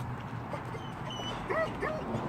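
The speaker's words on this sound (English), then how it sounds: "dog's freaking out today" A dog gives short yips and whimpering whines indoors over a steady low background hum, fairly faint and close, with a couple of brief rising whine calls near the end.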